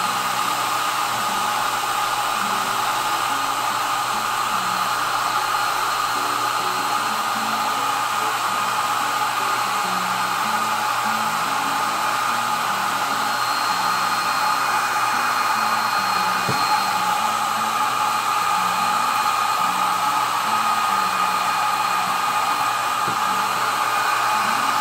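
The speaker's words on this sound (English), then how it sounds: "So don't mind the sound of the dryer for a moment." A blow dryer heats a glue stick on a lampshade, giving a steady, loud, unbroken whoosh of air with a motor whine that holds level the whole time, with no talking.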